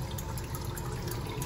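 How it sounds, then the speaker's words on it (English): Fresh water poured into a blender jar while preparing a carrot, beet, flaxseed and cilantro hair-treatment mix, a steady close splashing trickle throughout. "Let's put some nice fresh water."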